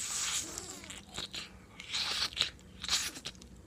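Crunchy biting and chewing of a single piece of tofu, close to the mic, with several crisp bursts spread over a few seconds and no talking.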